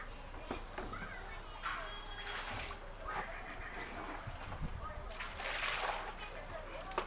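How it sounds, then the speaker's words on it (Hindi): Water is poured generously into an air cooler to flush out dust, giving a close, continuous sloshing and splashing with irregular bursts, the loudest near the end. "इसको मैं पानी अच्छे से गिरा रही हूँ ज़्यादा मात्रा में"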